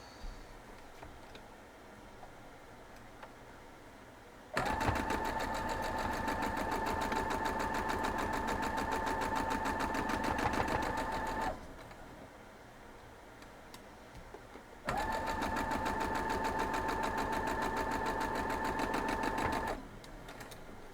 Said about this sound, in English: So we're going to head over and sew it up.